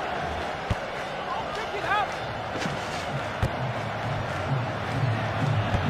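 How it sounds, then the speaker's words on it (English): A dense, continuous roar of an angry stadium crowd in a FIFA football video game, steady and fairly loud throughout, with occasional sharp thuds and whistles poking through the wash of noise. "And the sound of the crowd very angry indeed here."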